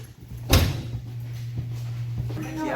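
A cabin door opens with a single sharp clack and rattle, followed by a few lighter knocks, over a steady low hum, with a voice faintly in the background.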